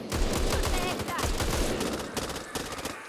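Heavy gunfire in the zombie shooter game Back 4 Blood, dense rapid bursts and rattling shots filling the whole stretch with little pause, loud and close.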